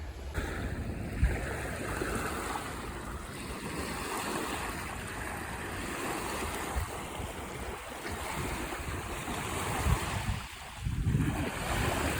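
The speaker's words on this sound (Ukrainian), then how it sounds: "Водичка, водичка. Бачите? Волни." Small waves lap steadily at the shore of a body of water, a continuous soft wash mixed with wind rumble on the microphone and a few louder splashes near the end.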